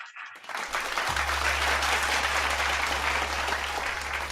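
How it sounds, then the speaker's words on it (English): Sustained applause from a seminar audience fills the room at a steady, dense level for several seconds, many hands clapping together with a low hum underneath. "Let's give him another round of applause."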